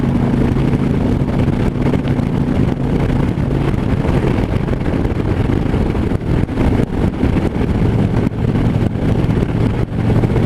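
A 2015 Harley-Davidson FLHTP touring motorcycle accelerating on a test ride, its engine rumbling steadily and loudly under heavy wind buffeting the microphone, with no one speaking.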